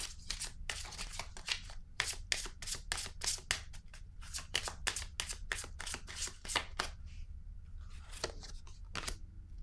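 Tarot cards being drawn and handled from a deck, giving a rapid run of crisp papery flicks and snaps that thin out near the end, close and fairly quiet with no talk.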